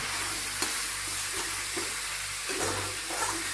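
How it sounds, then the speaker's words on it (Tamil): Capsicum frying in oil in a pan with turmeric, for a mushroom capsicum gravy, hisses in a steady close sizzle while soft stirring scrapes rise and fall underneath, no voices. "இந்த டைமில் கொஞ்சம் மஞ்சத்தூள் போட்டு நல்லா கிண்டி விட்டுக்கோங்க."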